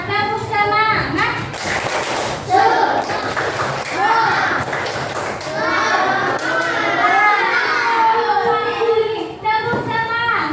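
Schoolchildren in a primary school classroom clap in a rhythmic chant routine, with a crowd of young voices calling along over steady, busy claps that run throughout.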